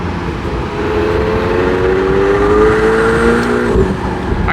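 Yellow McLaren 720S engine droning steadily while driving, a loud sustained tone with a slowly rising pitch sweep, heard close and alone without talk.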